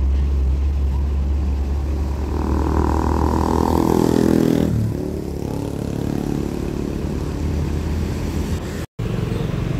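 A Mercedes-Benz MB1626 automatic bus pulls out of a parking lot, its loud diesel engine revving and rising, then easing off midway into a lower steady idle, with a brief dropout near the end.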